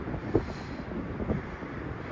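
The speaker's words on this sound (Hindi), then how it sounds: "हवा चल रही है यहाँ पे, बहुत ठंडी ठंडी" Cold wind blows through a mountain valley near Gangotri and Mukhwa village, a steady rushing hiss with soft gusty swells, heard alone without talk.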